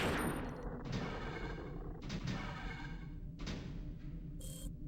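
Bursts of gunfire from a video game shooter hit a monster, several distinct volleys of shots in quick succession with echoing booms between them, fairly close and moderately loud.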